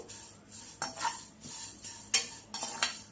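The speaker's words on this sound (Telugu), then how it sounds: "ఒక గుప్పిడి కరివేపాకు కూడా వేసుకొని వేపుకోవాలి మనం" Fenugreek seeds and curry leaves roast in a dry pan, stirred with a metal spoon in repeated scraping, rattling strokes about every half second, close and fairly quiet with a faint crackle beneath.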